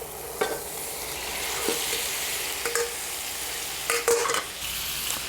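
Strained tofu tumbles into a sizzling chili-powder base for mapo tofu, raising a steady, close frying hiss broken by several brief stirring clacks and scrapes in the pan, with no voices.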